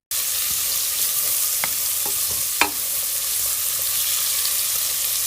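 Squid with tomato and squid ink sautés in a pan, a steady bright sizzle with a few scattered clicks and a single sharper scrape of a utensil stirring, close and continuous, with no talk.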